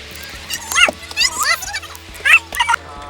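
Several voices on a bus bark and yip in imitation of dogs, short rowdy bursts overlapping one another, loud and close.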